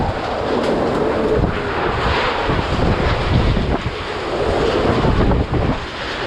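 Typhoon Rolly sends catastrophic winds and intense rainfall over Naga in Bicol, a loud, continuous roar of gusting wind that buffets the microphone over heavy rushing rain, with no voices.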